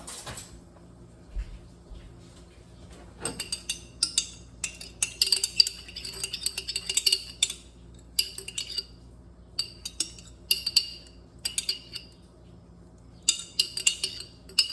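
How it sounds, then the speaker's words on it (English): A small spoon scrapes lasagna mixture out of a dish in a run of short clinking, scraping bursts with pauses between them, close and moderately quiet, without talking. "Alright, I'm going to get my little spoon to scrub out the extra."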